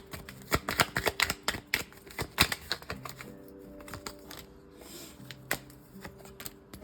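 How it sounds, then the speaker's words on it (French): Dropped tarot cards are gathered and shuffled on a table, giving a close run of sharp irregular card slaps and riffles that ease off and then return, with no talking. "j'ai fait tomber plein de cartes. Je les ramasse."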